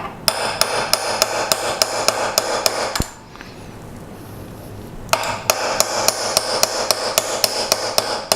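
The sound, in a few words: cheap hammer striking a punch to drive out a pin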